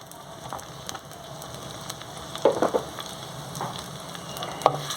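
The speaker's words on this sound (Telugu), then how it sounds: "ఉల్లిపాయలు వేసేస్తున్నానండి ఆయిల్ వేడైపోయింది పచ్చిమిర్చి కూడా వేసేస్తున్నానండి" Onions and green chillies frying in hot oil, a soft steady sizzle with a few sharper crackles and clatters near the middle and end, fairly quiet and with no voices.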